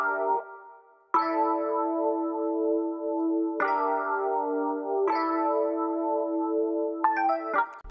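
Eerie synth chords from an Omnisphere preset for a trap beat, struck in sustained, bell-like stacks that ring out and decay, with about five chord hits across the loop and no voices.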